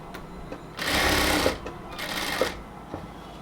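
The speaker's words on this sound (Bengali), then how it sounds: "স্লিভসটাকে ধরে আস্তে আস্তে সেলাইটা শুরু করব আমরা" A sewing machine stitches a cotton kurti sleeve in two short, quick bursts of rapid mechanical whirring, close and clear against a quiet room.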